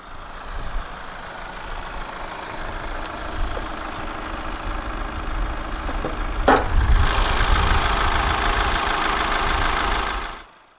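A 2014 Toyota RAV4's 2.0-litre 1AD-FTV turbo diesel inline-four idles steadily with a low, knocking rumble, growing louder and rougher partway through after a brief clank.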